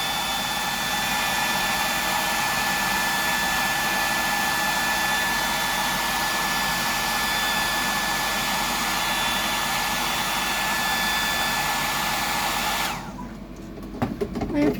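A hair dryer runs steadily at close range, drying paint on a custom fishing lure, a constant loud whooshing hum that cuts off near the end.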